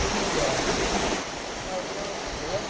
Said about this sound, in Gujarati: इधर भी एक वाटरफॉल है.